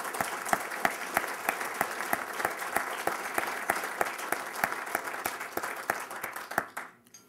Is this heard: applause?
yes